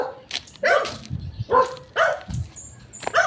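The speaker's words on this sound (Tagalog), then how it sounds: "Aso din." A dog barks in short, repeated bursts of three or four barks with yippy tones, heard outdoors on a morning walk through a residential street. The barking is moderately close and no one speaks.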